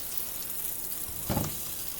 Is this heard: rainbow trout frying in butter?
yes